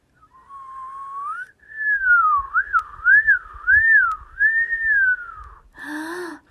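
A person whistling a clear wavering tune alone, starting with a long rising note, then several quick up-and-down swoops and a long held note, close to the microphone, ending with a short higher chirp.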